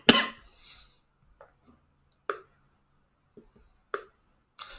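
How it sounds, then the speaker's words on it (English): A person with a cough gives a harsh cough, then a few sharp throat-clearing bursts spaced a second or two apart, close to the microphone in an otherwise quiet room. "I have a bit of a cough if you hear me clearing my throat through this video."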